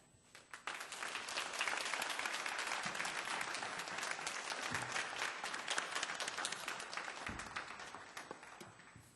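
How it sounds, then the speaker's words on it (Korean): A church congregation at a Sunday service applauds to welcome the visiting pastor, a sudden swell of many hands clapping that holds steady and loud for several seconds in a reverberant sanctuary, then eases off. "우리 큰 박수로 환영하며 맞이하겠습니다"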